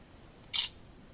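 An Asus Eee Pad Transformer tablet's camera fires a single short, bright shutter click over a faint steady hiss in a quiet room.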